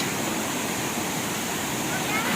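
Matikawol Falls in Mapanas, Northern Samar, a dense, constant rushing roar of falling water that fills the scene evenly and loudly from start to finish.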